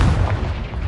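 A single heavy, booming blast from the Confringo spell in Hogwarts Legacy on PS5, a loud, close explosive burst with a rumbling low end and no speech.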